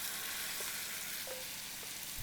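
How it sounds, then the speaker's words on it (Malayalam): Chopped banana fries in a mix of sunflower oil and ghee, an even, close hiss of bubbling oil with a couple of faint clinks, no voices. "ഇപ്പം പഴം ഒന്ന് വറുത്തെടുക്കുകയാണ് ചെയ്യുന്നത്."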